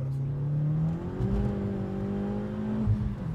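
A tuned Volkswagen Polo accelerates hard, its engine note climbing steadily in pitch through the revs, heard loud and close from inside the car with no talk over it.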